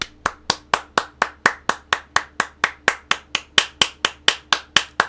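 A single pair of hands claps in a sharp, perfectly regular beat, about twenty close, crisp claps at roughly four per second, with no voices.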